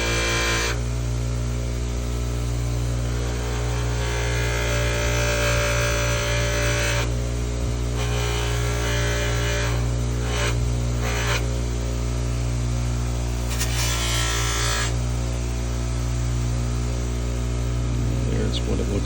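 Buffing wheel polishing a Kirby vacuum part, a steady motor hum with a constant whirring rub that shifts as the part is pressed against the wheel, with brief changes in texture.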